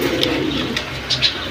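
A pair of silver pigeons coo softly close by, with a few brief higher calls breaking through a steady low murmur.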